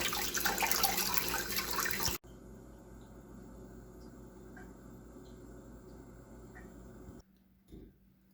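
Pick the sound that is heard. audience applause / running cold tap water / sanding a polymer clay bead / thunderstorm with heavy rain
running cold tap water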